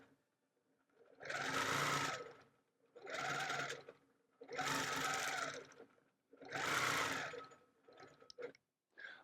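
A sewing machine quilting through a Gypsy Wife quilt runs in four steady bursts with short pauses between them, then gives a few brief stitches at the end, close and clear.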